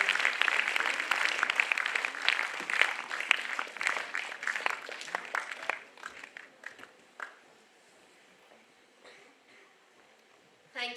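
Panel discussion audience claps in a thick burst that thins out after about six seconds into scattered, fading claps, then near quiet with a brief flare at the end.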